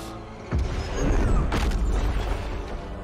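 A deep explosion from the film Godzilla: King of the Monsters booms heavily, followed by sustained low rumbling and a second sharp impact.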